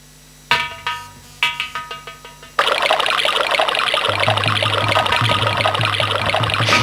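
During a staged nautanki folk-theatre scene, a few hollow knocks ring out, then water gushes in a steady, loud, continuous pour that runs to the end, with faint low musical tones underneath.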